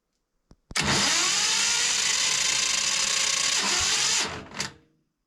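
A homemade walk-behind tractor built from scrap metal has its engine cranked on a weak battery: a loud, steady whirring crank runs for about three seconds, cuts off, then gives one brief final burst before fading.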